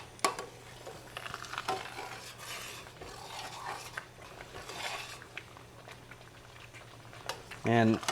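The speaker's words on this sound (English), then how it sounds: "we're gonna let this simmer maybe 2 more minutes, just to boil off that extra liquid" Raspberry jam with raspberry liqueur simmering in a pot, a soft steady bubbling with occasional utensil clinks and stirring scrapes, quiet and close, with a short voiced sound near the end.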